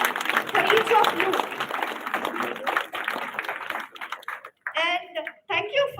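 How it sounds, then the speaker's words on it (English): An audience claps in a dense burst of applause that gradually thins out, followed by a few spoken words near the end. "Give a big round of applause for each of you."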